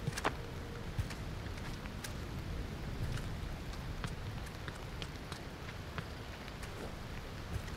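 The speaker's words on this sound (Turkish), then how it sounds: "Yağmur başladı." Steady, fairly loud rainfall from the video game Aloft hisses continuously, dense patter with scattered sharper drops standing out, with no voices over it.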